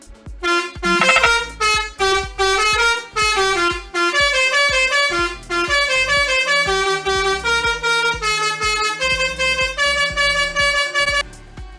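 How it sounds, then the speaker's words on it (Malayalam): A downloaded bus horn from the Bus Simulator Indonesia game sounds loud and close in a rapid musical sequence of repeated tonal honks, like a melodic multi-note air horn, with short gaps between blasts and no talk. "15ാമത്തെ ഹോൺ"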